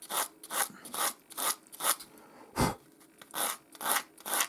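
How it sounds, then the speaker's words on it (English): Close, rhythmic rasping of cork edges hardened with super glue being sanded by hand, about a dozen back-and-forth strokes with short pauses between them. "As you're sanding it, all the fine bits of cork will adhere to the super glue"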